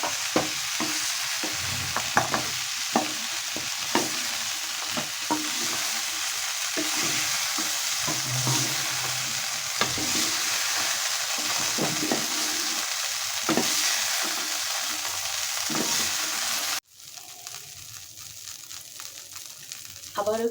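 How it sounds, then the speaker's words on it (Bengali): Cauliflower and potatoes fry in oil with a steady close sizzle, broken by repeated scraping and stirring clatter from a spatula in the pan, before the sound suddenly drops to a quieter background. "ফুলকপি আলুটা ভাজা হয়ে গিয়েছে"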